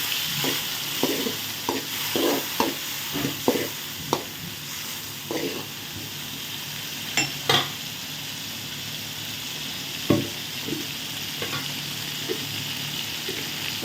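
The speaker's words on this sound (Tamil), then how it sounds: "இப்போ வெங்காயம் நல்லா கடங்கிடுச்சு தக்காளி பழத்தை போட்டுக்கலாம்" Tomatoes go into a pan of fried onions for a capsicum thokku, a steady sizzle under repeated scraping stirs and spoon knocks, close and clear with no talking.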